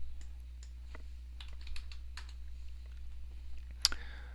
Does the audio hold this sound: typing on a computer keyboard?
yes